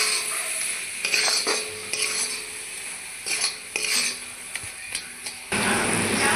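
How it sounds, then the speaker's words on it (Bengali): Grated coconut being stirred into hot sugar syrup in a pot for sandesh, with repeated scraping and clinking of a spoon against the pan over a soft sizzle, close and fairly steady. "চিনির শিরার সঙ্গে ভালো করে মিলিয়ে নেব।"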